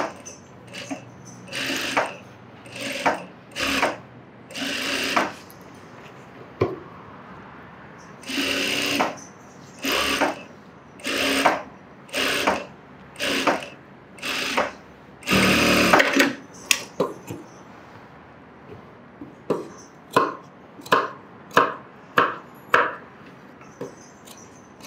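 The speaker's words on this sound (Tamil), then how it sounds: "இந்த பைப்பிங்கை இதில் வச்சு அடிக்கிறோம்." A sewing machine stitches piping onto fabric in repeated short bursts separated by brief pauses, running close and clear with no voices.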